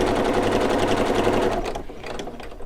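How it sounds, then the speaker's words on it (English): A sewing machine stitches a seam on a patchwork pillow, running in a fast, even rapid-fire patter that slows and fades after about a second and a half, then continues with softer, sparser stitching. "It's pretty normal in sewing to be starting and stopping as you are sewing one seam."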